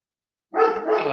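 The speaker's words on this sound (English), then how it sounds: "barking dogs are a part of show culture at this point." A dog barks close by in a burst of rough, overlapping barks that kick in suddenly after a moment of silence, alone with no voices.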